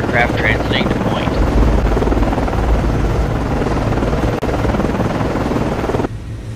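An SH-60 helicopter lifting off from an Arleigh Burke destroyer at night in the naval game Cold Waters, a loud, steady rotor drone filling the scene while radio-style voices talk over it.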